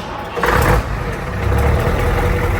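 A Scania truck's diesel engine idles nearby with a steady low rumble, broken briefly by a louder hiss-like burst early on before settling back into the even idle, with no talking.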